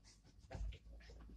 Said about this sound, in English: If you hear the dogs, they're playing in the background.